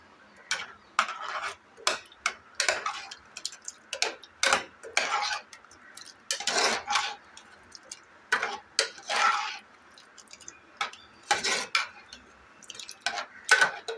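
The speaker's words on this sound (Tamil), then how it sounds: "இப்போ இதை நல்லா மிக்ஸ் பண்ணிக்கலாம்." A spoon stirs potato kurma in a cooking pan, giving irregular scraping and clinking taps against the metal, close and moderately loud. No voices are heard.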